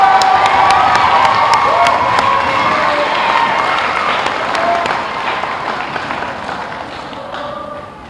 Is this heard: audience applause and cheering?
yes